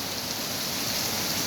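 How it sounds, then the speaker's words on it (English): Heavy rain pours steadily from a house downspout, a dense, continuous hiss and splash of water that stays loud and unchanging throughout, with no voices. "Grabe ang ulan."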